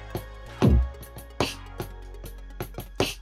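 Electronic drum kit sounds played on an MC drum pad: a handful of separate punchy hits, including one deep booming kick-like strike and several sharper snappy taps, spaced irregularly over a low steady hum.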